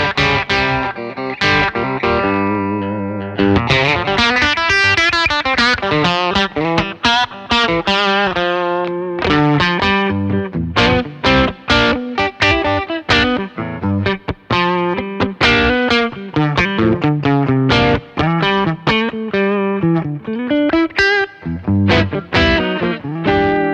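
An electric guitar through a pushed clean amp channel, slightly overdriven, plays a flowing run of chords and single notes, bright and a little gritty, loud and alone without talking.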